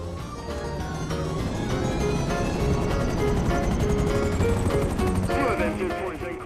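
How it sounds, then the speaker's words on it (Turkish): Military attack helicopter in GTA 5, its rotor and engine roar loud and steady throughout, thick and constant with other game sounds layered in. "Bu savaş helikopteriymiş ya."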